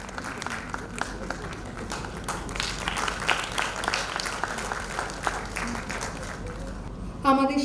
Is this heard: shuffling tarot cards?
no